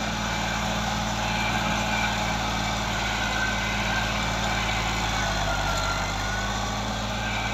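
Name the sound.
1972 Fiat 480 tractor engine running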